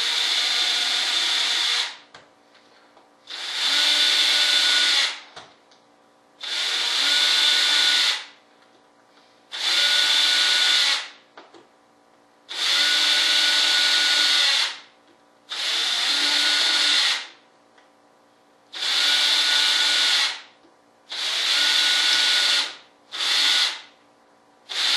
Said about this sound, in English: take and drill some holes in it.